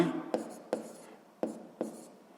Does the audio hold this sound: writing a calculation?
yes